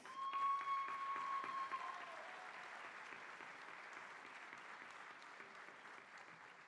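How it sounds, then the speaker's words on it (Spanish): An audience at a 2023 singing-workshop concert gives a warm round of applause for a singer, a dense rush of clapping that starts strong and gradually tapers off, heard from a little distance. "Recibimos con un fuerte aplauso a Silvia Ibáñez."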